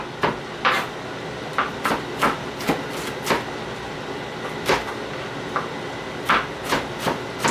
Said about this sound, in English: let me get my chopping board up because I got a lot of chopping to do